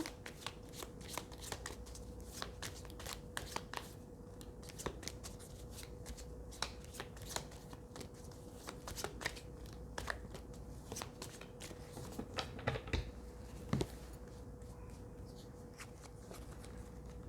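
Tarot cards shuffled by hand, quick repeated riffling and slapping bursts in an even rhythm, close and fairly quiet, with no talk over them.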